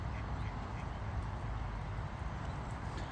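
Ducks quacking outdoors in a dense, continuous chorus of overlapping calls, fairly close and loud, with rustling and shuffling noise underneath throughout.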